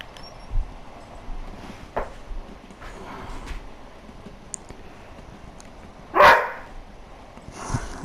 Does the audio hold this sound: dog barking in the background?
yes